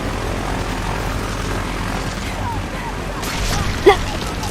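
An aircraft propeller in the Gears 5 video game drones steadily and evenly throughout, with a brief sharp impact near the end.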